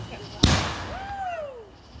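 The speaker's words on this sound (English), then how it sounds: "How can there be so many fireworks?" Fourth of July backyard fireworks: one sharp loud bang, followed by a rising whistling streak that trails off.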